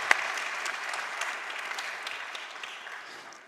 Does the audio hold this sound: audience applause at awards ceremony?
yes